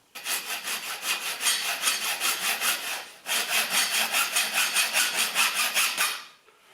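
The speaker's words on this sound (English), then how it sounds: "you may need just to put a little bit of sandpaper in there just to clean that up." Hand sanding with a small piece of sandpaper inside a window recess to clean up the edge. Brisk back-and-forth rasping strokes come in two quick rhythmic runs with a short pause between them, close and fairly loud.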